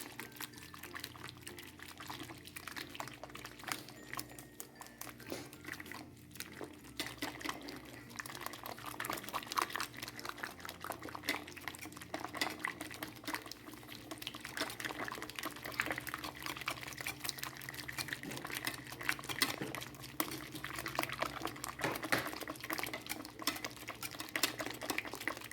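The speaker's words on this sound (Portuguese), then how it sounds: "misturo com cuidado pra não ficar riscando também a minha panela" A whisk stirring cake batter in a pan with careful strokes, producing a continuous wet scraping and sloshing that stays steady and moderately loud with no talking.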